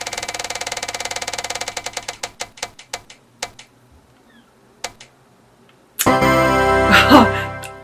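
A spinning prize wheel ticks rapidly against its pointer, the clicks slowing and spacing out until it stops; a moment later a voice starts talking close by.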